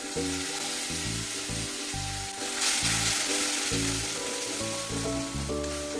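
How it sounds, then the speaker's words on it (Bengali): Poppy seed paste and cashew paste fry in oil in a pan, a loud, dense, continuous sizzle and crackle that holds steady throughout, with faint background music underneath and no talking. "এবার এটাও ভালো করে কষে নেবো যতক্ষণ না তেল ছাড়ছে"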